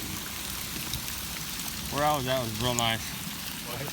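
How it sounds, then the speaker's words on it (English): Light drizzle of rain falling after a hailstorm in open backcountry during an elk hunt, a steady soft patter throughout with someone speaking briefly over it. "Okay, the hail stopped. We've got just a little bit of drizzle in the rain."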